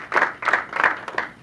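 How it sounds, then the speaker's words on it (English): A comedy-benefit audience claps in a few short, uneven bursts of applause, moderately loud and without talk over it. "Y'all are applauding because that's more booze that you could drink."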